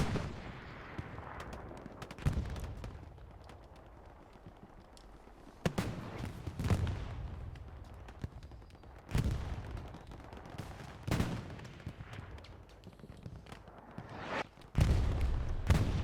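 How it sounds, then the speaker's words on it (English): Scattered booms of artillery and gunfire from Hell Let Loose, a World War II shooter, arrive in uneven bursts: several sharp impacts with rumbling tails, separated by quieter stretches of low ambient noise. "Effective artillery coming down from Axis, targeting this building right here."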